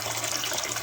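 Water is poured over crushed horse gram in a vessel to wash it, making a steady, close, gushing splash with no talking.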